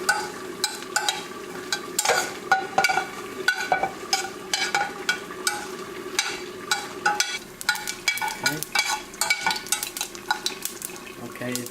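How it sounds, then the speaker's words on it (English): Mustard seeds, cumin seeds and chilies fry in hot oil, giving a continuous crackling sizzle with frequent sharp pops and some stirring clatter from the pan. "You fry it until they crack up and the chili will be ready."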